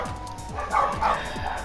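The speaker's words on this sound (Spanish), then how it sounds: "Ay no, tenían que ser los perros." Dogs barking nearby in quick repeated bursts, about four sharp barks in a rhythmic run over background noise, loud and close.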